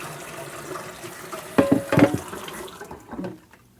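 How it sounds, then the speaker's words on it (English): Hot tap water splashes while a cast iron pot is rinsed, with a few loud bursts of running water in the middle and quieter trickling after, over a low room hum and no talking. "Just give it a good rinse. Make sure you get all the gunk out."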